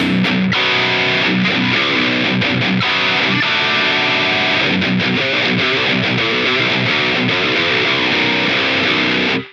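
A heavily distorted electric guitar in drop B tuning plays a low, chugging riff, loud and dense, ringing out alone before stopping abruptly at the end.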